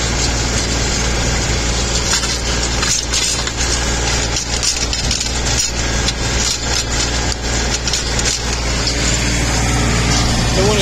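A red RK tractor engine runs steadily with a tiller working a rocky corn field, a continuous loud low drone with scraping and rattling bursts through the middle.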